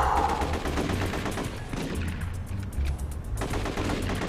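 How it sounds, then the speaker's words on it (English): Bursts of rapid gunfire in the PS2 game The Getaway crackle repeatedly over a steady low rumble, with irregular volleys that sound somewhat distant. "I hear gunfire, but I don't know where it is."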